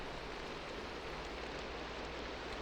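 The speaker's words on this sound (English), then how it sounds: "Beautiful rain. So cozy." Steady, faint, hissing rainfall in Minecraft, a constant even patter with no breaks or voices.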